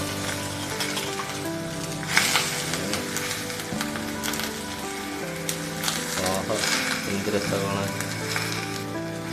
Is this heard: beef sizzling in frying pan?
yes